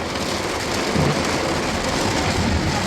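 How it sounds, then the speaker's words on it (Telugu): Heavy rain pours down in Indiana during a flood-warning storm, a loud dense continuous roar with no gaps. "భయంకరంగా కురుస్తుంది వాన."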